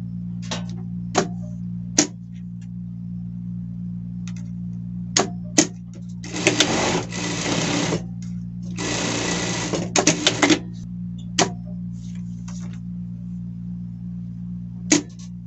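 A sewing machine runs a seam on a jeans shirt in two bursts of about two seconds each, with scattered sharp clicks and taps around them over a steady low hum, close to the listener.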